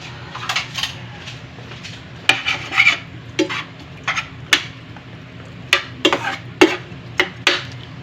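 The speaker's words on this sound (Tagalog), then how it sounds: "Halo na natin ang mga ingredients bago kumulo para hindi masira ang tilapia" A ladle scrapes and knocks against a metal pot while stirring paksiw na isda, tilapia with vinegar and other ingredients not yet boiling, giving a steady rasping stir punctuated by sharp clinks, with no voices.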